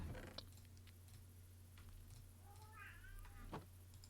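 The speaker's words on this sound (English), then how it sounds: "Could you hear my cat?" A single faint meow from a pet cat rises briefly midway through, over a low steady hum and scattered small clicks.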